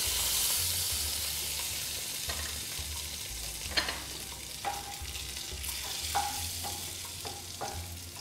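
Butter and carrots sizzling in a pan for Swedish meatball sauce, a steady close frying hiss with occasional stirring clinks and scrapes.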